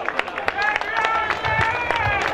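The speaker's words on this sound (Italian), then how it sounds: "applauso" An audience at a small-town singing contest near Empoli claps for a contestant, a fast, dense patter of hands with scattered cheers and murmuring, while a presenter talks over it.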